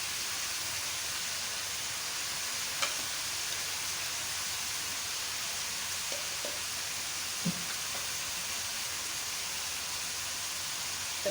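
A paste of garlic, ginger and green chili sizzles in a pan with a steady, soft hiss, broken by a few faint clicks.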